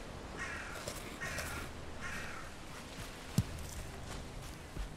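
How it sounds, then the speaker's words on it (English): A raven caws overhead in the video game Valheim, three hoarse croaking calls spaced about a second apart over outdoor ambience, with a sharp thud late on. "So there's that raven calling up in the sky there."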